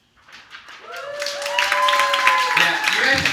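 An audience at an athletics banquet breaks into clapping that swells from scattered claps into steady applause, mixed with cheering voices.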